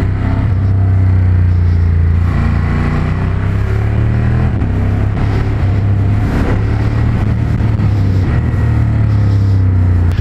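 A Ducati motorcycle runs on a race track circuit, a loud, close, sustained engine drone with a steady low hum and pitch that rises and falls slightly as the rider works the throttle.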